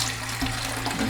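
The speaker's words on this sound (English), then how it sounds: "you fill your tube up to this line right here with hot water" Hot water pours steadily into a tube in a continuous rushing, splashing stream, close and even in level, with no talking over it.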